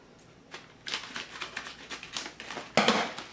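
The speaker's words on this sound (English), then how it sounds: "Let me get my scissors so I can cut this open." Scissors snipping through a plastic rice package, a run of crisp, close cutting and crinkling strokes that grow louder, ending in a sharp rustle.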